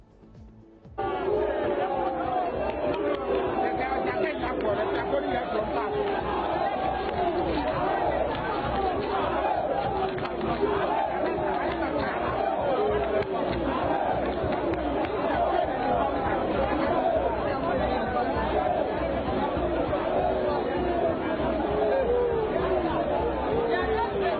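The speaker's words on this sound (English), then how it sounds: "here's a video of some people booing the Black Stars as they left the city" Football fans in Kumasi jeering the Black Stars as the team leaves the city, a continuous roar of crowd voices and shouting with rising and falling cries, dense and sustained throughout.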